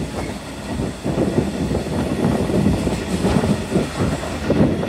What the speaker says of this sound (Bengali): আমাদের ট্রেনটি প্রায় 40+ কিলোমিটার গতিতে এগিয়ে যাচ্ছে।